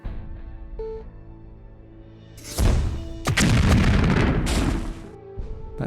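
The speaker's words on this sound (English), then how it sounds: "This fragmentation grenade, when fired from the 40mm grenade launcher, will ignite its encased TNT after a short delay." A 40mm fragmentation grenade fired from a launcher in the game Jagged Alliance 2 bursts with a heavy boom, followed by a second loud blast and a rumbling, fading tail over a quiet game hum.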